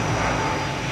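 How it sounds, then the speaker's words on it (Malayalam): Steady engine roar of an airplane flying overhead, a continuous loud drone with no gaps and no talking. "വിമാനം പോകുന്നുണ്ട്"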